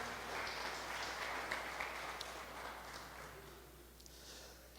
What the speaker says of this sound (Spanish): Vamos a darle un aplauso a estos caballeros.